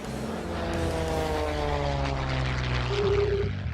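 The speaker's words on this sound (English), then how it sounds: "the airplanes overhead tumbling and rolling across the sky" Propeller airplanes performing tumbling, rolling aerobatics overhead at an air show, their engines giving a loud, steady drone that swells and shifts pitch throughout with no speech.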